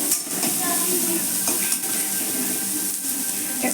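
Chopped onion, ginger and garlic sizzle and fry in a hot pan while being stirred, a steady close sizzle with scraping stirs and occasional light utensil clinks, no talking.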